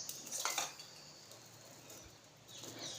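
A metal pressure cooker lid is fitted and closed, making a couple of light, close metallic clinks and a scrape at the start and again near the end, with quiet room tone between.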